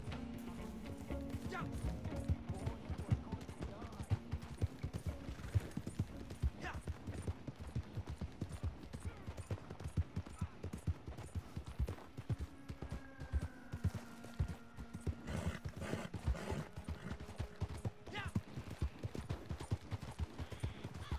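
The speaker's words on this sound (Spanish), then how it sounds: "Esto, un caballo." Horse hooves gallop in rapid rhythmic clip-clop in Red Dead Redemption 2, continuous throughout with game ambience and occasional faint voices behind.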